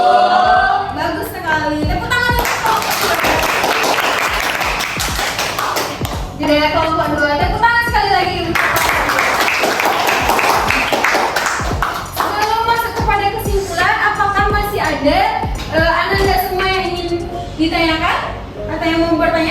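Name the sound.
classroom applause for group 2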